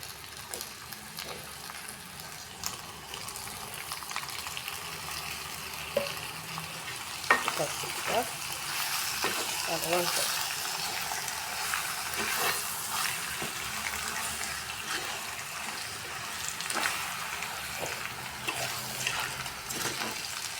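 Chicken pieces frying in a pan of tempered spices for a chicken curry give a steady, dense sizzle with occasional stirring scrapes and clinks, close and continuous throughout.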